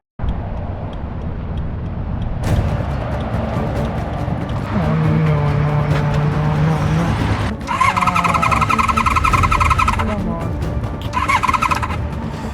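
Honda VFR 750 motorcycle on a test ride, its engine droning steadily and close with a rising rev, accompanied by squealing, whining tones and wind rush.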